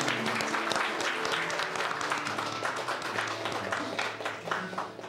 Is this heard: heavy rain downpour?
no